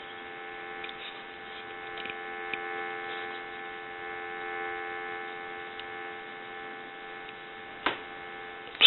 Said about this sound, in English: I want to give you some dial tone.